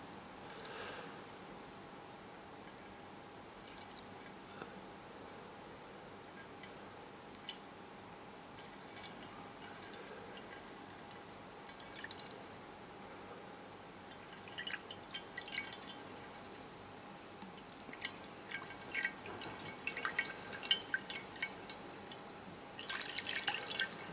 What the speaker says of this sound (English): the touch is responding to the water falling on it